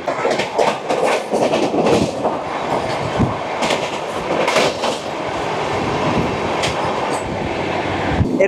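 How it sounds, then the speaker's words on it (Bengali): The Amrit Bharat Express, running from Malda to Bangalore, rushes along at speed past Tildanga station, with loud continuous rail roar and rhythmic wheel clatter heard from aboard. "দুরন্ত গতি নিয়ে অমৃত ভারত এক্সপ্রেস পার করলো তিলডাঙ্গা স্টেশন"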